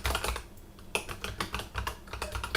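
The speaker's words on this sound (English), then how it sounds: "I'm just going to type in Windows Admin Center." Computer keyboard typing, a fast burst of soft, close key taps in an uneven rhythm lasting a couple of seconds, with no voices.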